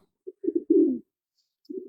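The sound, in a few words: pigeons cooing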